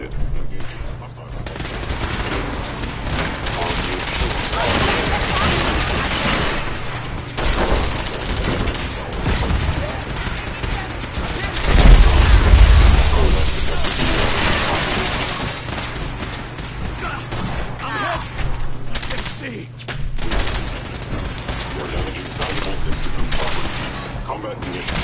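Sustained, loud Fallout 4 combat gunfire with overlapping automatic bursts and a heavy thump near the middle, continuing densely throughout the scene over constant game noise.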